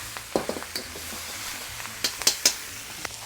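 Bok choy tossed with ginger and garlic in a hot wok, with soft sizzling and several sharp clanks and scrapes of utensils against the pan in a short burst.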